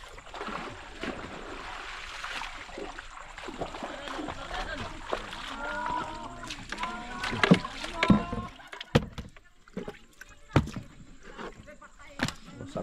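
Water laps and splashes around a small boat moving along, with people talking over it and a few sharp knocks toward the end.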